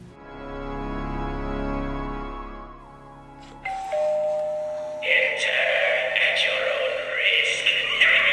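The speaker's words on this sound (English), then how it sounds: "I found this animated eyeball doorbell." An animated eyeball Halloween doorbell for a front entrance sounds off with a chime-like ding-dong, followed by a brighter, busier electronic effect that builds and fills out the second half of the clip.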